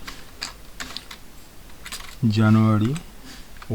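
Keys tapped on a computer keyboard while entering data in an Excel spreadsheet, scattered light clicks near the mic, interrupted by a short stretch of a speaking voice.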